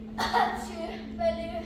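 A short, sharp sneeze from a man in a theatrical stage production, a brief nasal burst standing out over a steady low hum, with a faint vocal sound trailing after it.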